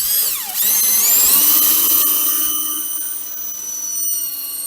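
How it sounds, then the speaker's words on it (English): A power drill bores holes into a mortar wall with a slightly bent, wobbling bit: a loud, close motor whine that rises at the start, then holds a steady high-pitched grinding drone with brief dips. "So I'm going to drill a series of holes as marked."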